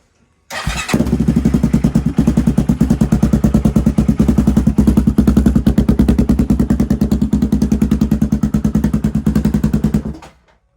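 A cold engine that has sat unused for a while cranks and fires up, then idles unrevved with a steady, rapid clatter that continues loudly before cutting off.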